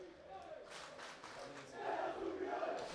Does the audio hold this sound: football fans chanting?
yes